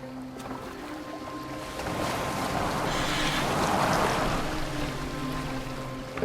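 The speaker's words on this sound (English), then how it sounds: "Are you well enough to steer this boat?" A boat moves across the water in the Assassin's Creed Valhalla video game, giving a steady rushing wash that swells slightly midway, with no voices.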